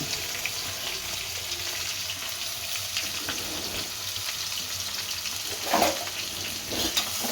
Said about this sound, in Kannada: ಇದೊಂಚೂರು ಫ್ರೈ ಮಾಡ್ಕೊಳ್ಳೋಣ. ಇದು ಸ್ವಲ್ಪ ಫ್ರೈ ಆಗಲಿ.